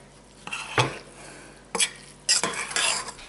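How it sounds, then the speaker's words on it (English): A spoon stirs a pan of beef sirloin with Worcestershire sauce, scraping and clinking against the cookware in a few separate strokes, with a faint sizzle between them. "let's stir this up again"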